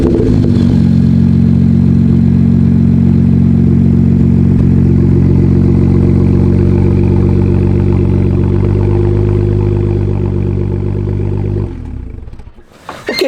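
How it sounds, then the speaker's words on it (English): A loud, deep BMW engine idles with its muffler removed, a rough, throaty exhaust rumble, steady for several seconds before dropping off at the end. "the sound improvements that you guys can expect just by removing the muffler"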